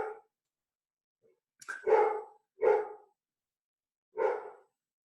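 A dog barks four times with irregular gaps, close by and fairly loud, with silence between the barks.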